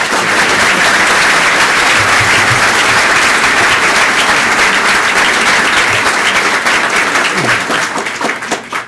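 A large audience applauds continuously at the City Club to welcome speaker Sandra Pianalto, dense steady clapping filling the room before it begins to thin out at the end.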